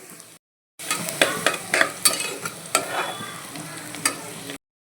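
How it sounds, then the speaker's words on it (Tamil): Ginger garlic paste fries in a cooker pan with a close, crackling sizzle that comes in repeated bursts as it is stirred and scraped, after a brief sound and a short silence at the start. "இப்போ இஞ்சி பூண்டு பேஸ்ட் வந்து சேர்த்துக்கிறேன்"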